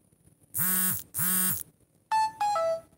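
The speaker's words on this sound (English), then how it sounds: "Oh man, my phone's getting all sorts of notifications now." A phone chimes with notification sounds, two long buzzy tones followed by two shorter bright beeps, close and loud, with no talking.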